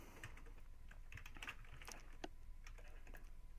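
Quiet tapping on a computer keyboard, irregular soft keystrokes in quick succession while notes are typed, faint over a steady low background hum.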